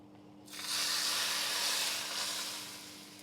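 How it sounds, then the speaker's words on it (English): Hot oil poured over ginger paste and spring onions gives a sudden loud, broad sizzling hiss that holds steady for a few seconds, then eases slightly. "now we add our hot oil to our ginger paste and spring onions"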